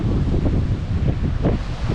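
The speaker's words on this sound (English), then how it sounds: "The wind's not too bad now." A bitter north-easterly wind blows across the Cardiff foreshore, a constant loud low buffeting roar with gusty pulses battering the microphone, with no voices.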